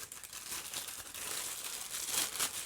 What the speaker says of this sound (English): So we'll take Storm out there in the protective little paper baggy thing.